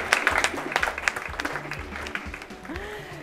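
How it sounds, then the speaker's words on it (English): A crowd at a school cooking competition in Ghana claps and applauds steadily, dense and lively, fading slightly toward the end. "let's give them a big round of applause"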